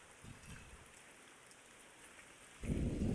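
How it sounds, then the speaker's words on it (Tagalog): Rain patters softly and continuously, with a heavier rumbling gust swelling in near the end. "Sumaglit po ang ulan."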